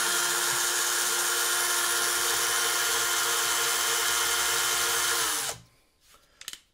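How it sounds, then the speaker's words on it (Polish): A cordless screwdriver unwinds guitar strings, whirring loudly at high speed for about five seconds before spinning down and stopping, with a few light clicks after. "Może zrobię to tą wkrętareczką."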